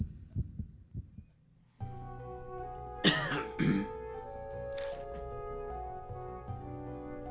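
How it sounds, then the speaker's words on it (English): A person in pain coughs and clears their throat harshly twice in a video game, strained and close, over a low steady background hum. "I hear coughing sounds. They sound like they're from a person that's in pain."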